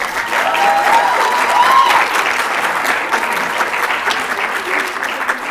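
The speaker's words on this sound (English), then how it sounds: "I would like you to give yourselves a very big round of applause. And another round of applause for our panel of judges." An audience at an inter-college environmental public speaking competition applauds the competitors and the judging panel. The round of clapping is loud and sustained, with a faint whistle near the start.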